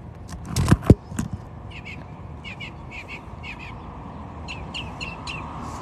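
A bird, most likely a crow, caws outside in the early morning, giving a string of short repeated calls at a moderate distance. A couple of loud thumps open the sequence, and there is no talking.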